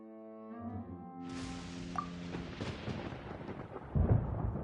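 Thunder rolls in during a Genshin Impact story-quest storm. A low rumble swells over sustained tonal game music, cracks once sharply, then builds into a heavier, booming roll near the end.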